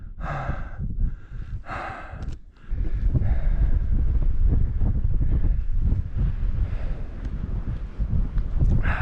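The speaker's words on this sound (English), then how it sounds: "it's really windy out here." Strong gusting wind over windswept sand dunes above the Columbia River, loud roaring buffets hitting the microphone in rising and falling surges, with a short lull before a sustained heavy blast.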